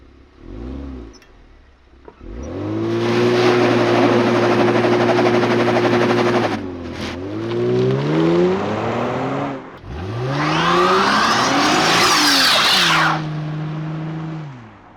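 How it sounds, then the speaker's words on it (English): A 2021 Kia Stinger GT revs loudly up close in two long, sustained surges. Brief dips separate them, and a harsh, broadband tire-squeal hiss rises during the second push. "technically this might be able to do a burnout"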